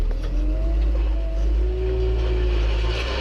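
A steady, rumbling International Harvester 1055 XL tractor engine drones close by with a low, continuous hum, holding fairly even as it pulls away slowly in second gear.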